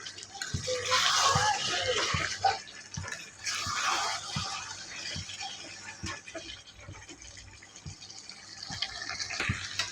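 Water is poured into a curry frying in a pan, a steady broadband splash and sizzle with drip-like ticks running throughout, fairly close.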